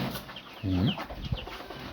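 A chicken clucks nearby in a few short throaty bursts, with faint background noise around it.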